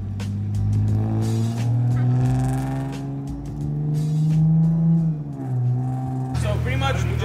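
An Infiniti G37 with freshly installed cams pulls away on a test drive, its engine note droning steadily and rising at the end, with people talking over it throughout.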